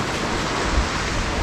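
A waterfall on the La Cloche Silhouette Trail rushes in a steady broadband roar, close and constant for a brief moment with no talking.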